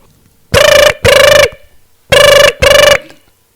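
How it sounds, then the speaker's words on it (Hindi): A telephone rings on a call in a Maithili comedy sketch: four loud electronic ring bursts, paired in two doubles separated by a short pause, with no one speaking. "अच्छा लिया हम फोन करे छियै।"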